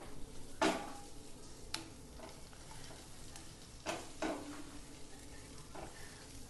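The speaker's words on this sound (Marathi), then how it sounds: "आता आपण हे थोड्या मिरच्या कट करून घेतलेल्या त्या मिरच्या टाकणार आहोत। चांगलं परतून घेणार आहोत आपण।" Chopped green chillies stir-fried in a pan for momos, a soft, steady sizzle broken by several sharp scraping clatters of the spoon against the pan, close and clear, with no talking.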